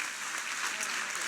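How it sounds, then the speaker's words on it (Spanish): A church congress audience claps in a dense, steady wash of applause heard throughout at a moderate level, with a faint voice underneath. "Le damos un fuerte aplauso a Dios."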